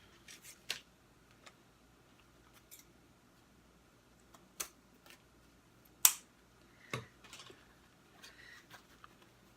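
Scissors snipping Christmas wreath ribbon, a few sparse sharp clicks and snips close by in a quiet room, one crisper cut standing out midway.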